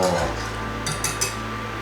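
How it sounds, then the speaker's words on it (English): Kaya being stirred in a pot over medium heat, with soft scraping and a few light clinks of a spoon against the pot, close by, while people talk in the background. "And just keep stirring."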